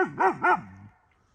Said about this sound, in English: We heard the dogs barking